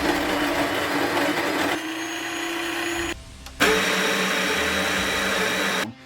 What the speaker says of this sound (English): This is a loud grinder, just like its big brother, the 270.